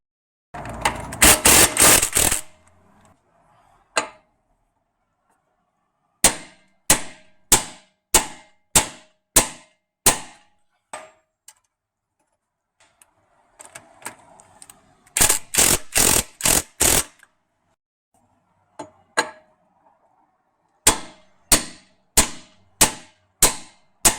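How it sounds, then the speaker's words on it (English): A hammer tapping a driver on a threaded rod to drive out a rear differential carrier bush on a Jeep Grand Cherokee: sharp metallic strikes, some single and others in rapid bursts, ringing close and loud with silent gaps between. "keeping tension on that driver, and then we just give it a tap to drive it out"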